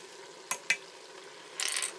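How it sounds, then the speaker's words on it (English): A spoon works chili beans and chipotle spices in an electric pressure cooker pot, giving two quick metallic scrapes and then a short gritty shuffle, faint and close with no voices. "And let me stir these up."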